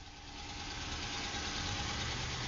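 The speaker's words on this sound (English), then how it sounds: "This car actually is equipped with remote start, so we'll go ahead and fire it up." A stock 2015 Dodge Charger R/T with a K&N cold air intake, started by remote start, settles into a steady, rumbling idle heard up close, the engine note swelling slightly and holding constant with no talking.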